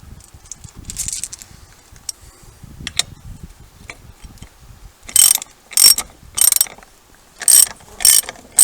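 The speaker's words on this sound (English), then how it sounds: "Loosen the lug nuts up first" Ratchet loosening 17 mm lug nuts on a rear wheel of a 2006 Yamaha Rhino 450, with light metal clinks and handling first, then several loud, close bursts of rapid ratchet clicking in short runs.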